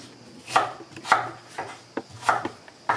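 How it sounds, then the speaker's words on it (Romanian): Two large onions are chopped on a board with a knife, giving about seven sharp, fairly loud chops in an uneven rhythm with quiet pauses between strokes. "între timp vom toca ceapa o tocăm nu foarte, foarte mărunt"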